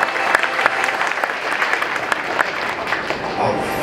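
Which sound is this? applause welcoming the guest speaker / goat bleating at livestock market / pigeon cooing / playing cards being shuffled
applause welcoming the guest speaker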